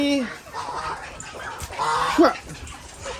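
Chickens cluck and squawk in short bursts nearby, with a voice talking over them and some splashing or background noise.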